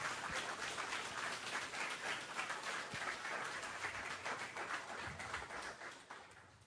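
Steady applause from a large church congregation, continuous clapping at an even level throughout with no voices standing out.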